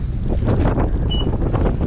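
Strong wind buffets the microphone in steady broadband rushes as a boat is brought sideways into its berth, loud and continuous throughout with no voices.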